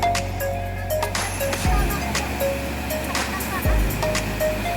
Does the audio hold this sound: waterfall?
yes